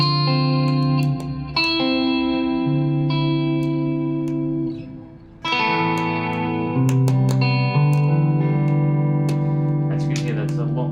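Electric guitar run through a digital guitar rig effects preset, with chorus, echo and reverb giving sustained, shimmering chords that ring and overlap, close and fairly loud, with one brief dip between phrases.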